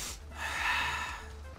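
A person sniffs loudly and up close through the nose during a Flak gaming session, with one sustained snorting inhale and no talking.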